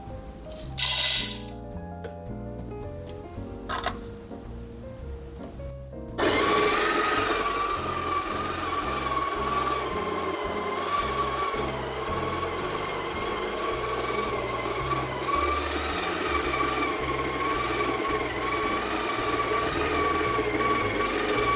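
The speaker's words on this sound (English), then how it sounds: "Okay, it's really struggling to grind that." A Breville Smart Grinder Pro grinding coffee beans at grind size 20 into a cup starts after a few short clicks and knocks, then runs as a loud, steady strained motor whir with a high whine that continues to the end.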